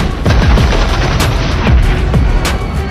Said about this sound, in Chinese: 格拉维克马上引爆了真的脏弹